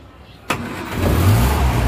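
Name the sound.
1950s Austin A40 vintage car engine starting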